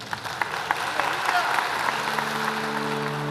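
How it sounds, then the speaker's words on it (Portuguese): A church congregation claps steadily in sustained applause, and a sung or held tone rises near the end. "Vamos abençoar Jesus com um aplauso, Ele é digno."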